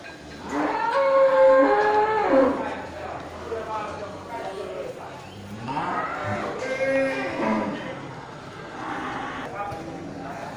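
Cattle low and moo at a busy cow market holding bulls of Bali and Aceh breeds, the calls mixed with crowd noise and someone talking over them.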